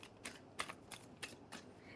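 A deck of cards shuffled for a card reading, quiet close-up riffling in about half a dozen quick, soft bursts.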